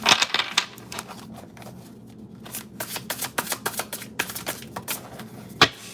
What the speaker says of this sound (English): I done shuffled these cards before that, after that, and just now